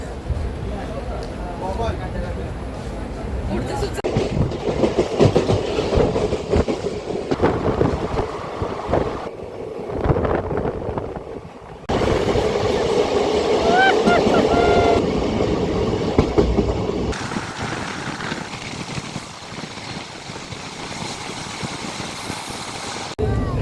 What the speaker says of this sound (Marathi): ट्रेन सुरू झालं आहे